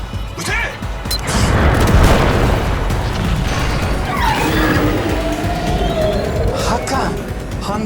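Cannon fire on a sci-fi defence-force TV show: a heavy boom with rumbling blast and crashing debris, followed by whooshing, sweeping effects and sustained roar, loud throughout.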